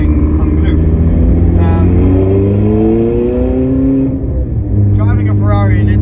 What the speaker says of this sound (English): Driving a Ferrari in Italy is pretty special